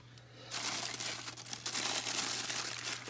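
Plastic packaging crinkling close up as a Cry Babies doll is unwrapped, a continuous soft rustle and crackle that swells after a quiet start, with a low steady hum beneath.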